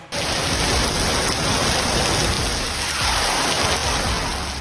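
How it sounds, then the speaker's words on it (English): Heavy rain pours down onto a road, a dense, loud, continuous hiss with no breaks and no voices. "heavy rain pours down, while the other side remains completely dry"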